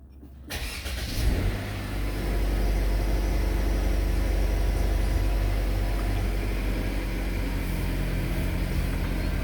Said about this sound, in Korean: 먼지 하나 묻지 않은 벤츠입니다. 시동 한번 걸어볼까요?